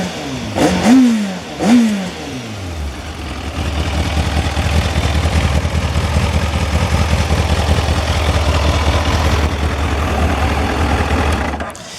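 A 1997 Kawasaki ZX9R Ninja sport motorcycle engine gets two quick throttle blips and then settles into a loud, steady, close-up running rumble that continues to the end.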